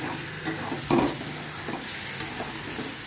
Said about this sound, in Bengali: ভালো করে নাড়তে হবে, নেড়ে নেড়ে জলটাকে শুকিয়ে নিতে হবে